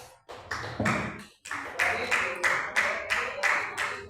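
A church congregation claps joyfully during a Pentecostal-style service, a series of sharp hand claps in an uneven rhythm, loud and close, with a short pause near the start before the clapping settles into a steady beat.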